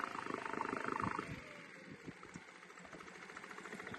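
A Yamaha outboard motor, long unused and first started on choke, idles with a low, steady rumbling putter that is louder at first and then settles into a quieter, even pulse.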